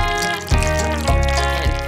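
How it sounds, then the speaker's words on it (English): Thick noodle batter streams into a pot of boiling water for homemade spaghetti, a close steady pour with a few soft splashy pulses, loud and unbroken, no talking. "Then and resulting mixture should be poured into boiling water in the thin stream"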